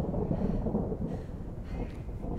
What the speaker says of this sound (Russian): Ну, гром, конечно, они реально сделали.